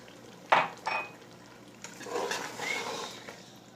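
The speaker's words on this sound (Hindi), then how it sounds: "अब इसमें हमारे पास जो बची यखनी थी, वो भी इसमें ऐड कर देंगे।" Leftover mutton stock splashes into a pot of cooking mutton with a brief pour and clatter, then a soft bubbling simmer follows, close by and fairly quiet.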